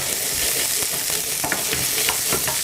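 Small creamy, purple-topped vegetables stir-frying in a hot pan, a dense, steady sizzle with light stirring clatter, close and loud with no talking.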